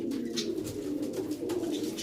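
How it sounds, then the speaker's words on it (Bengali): Teddy pigeons kept in a cage coo steadily and loudly, low throaty calls overlapping with no pause and no voices. "আরো অনেক পায়রা রয়েছে যেগুলো খাঁচার ভেতরেই রয়েছে"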